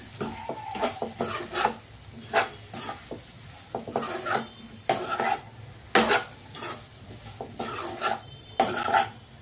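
Soya chunks (meal maker) stirred in a frying pan, with repeated scraping and clinking of a spoon against the pan over a soft continuous sizzle, close and without speech.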